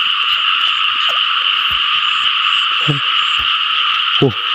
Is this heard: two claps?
no